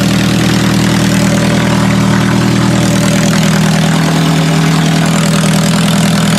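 A demolition derby car's engine idles just after starting, a loud, steady rumble that holds evenly throughout with no talking.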